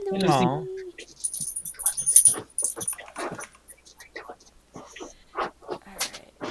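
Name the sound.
dog whimpering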